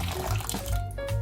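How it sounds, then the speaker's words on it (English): Water runs from a tap into a pot of melted milk and butter, a brief, bright splashing pour lasting about a second with no talking. "I'm just going to go in with a bit of water."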